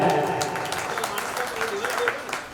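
An audience at a Dev Diwali celebration in Derol bursts into applause, dense many-handed clapping strongest at the outset and gradually easing, with some voices mixed in.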